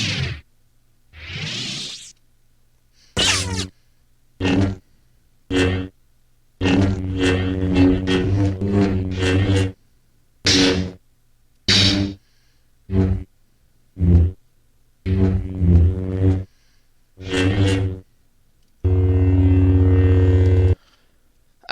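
A run of separate lightsaber sound effects played back one after another in editing software: hums, swooshes and buzzing ignition-like bursts, each short and loud with silent gaps between, ending on a longer steady hum.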